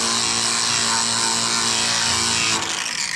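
A power tool sands rusty truck paint down to bare metal with a loud, steady high-pitched whine and grinding hiss that runs without a break, then eases slightly near the end. There is no talking.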